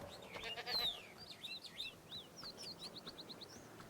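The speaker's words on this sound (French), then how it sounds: "Ah bah oui, bah il est là, la chèvre." Goats bleat in Jurassic World Evolution 2, short nasal calls mixed with chirpy bird-like tweets over faint ambient game background, moderately quiet and spread across several seconds.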